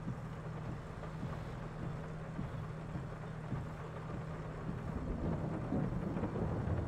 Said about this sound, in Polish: A jeszcze burza jest do tego.